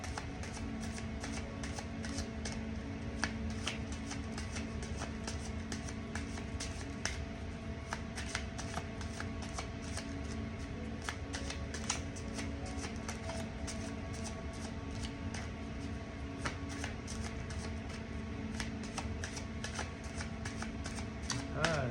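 Continuous rapid riffling and snapping of tarot cards being shuffled, close by, steady and unbroken throughout with faint background hum.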